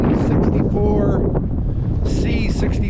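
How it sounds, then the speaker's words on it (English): Strong wind buffets the microphone beside a 1964 C6500 grain truck on a farm, a loud, close, ragged rumble that runs throughout, while someone talks over it. "It's gonna get real windy."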